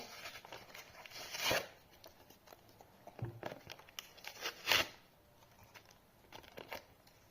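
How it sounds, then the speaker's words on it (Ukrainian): Paper surprise packet being torn open by hand, a quiet close-up of crinkling paper with two sharper rips standing out amid softer rustles. "Ось наш пакетик відкриваємо."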